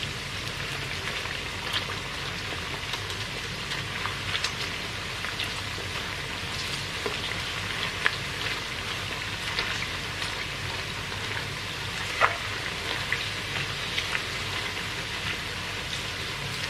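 Chicken skin deep frying in hot oil over fairly high heat makes a continuous dense crackle and bubbling hiss with scattered sharper pops, steady and close with no voices.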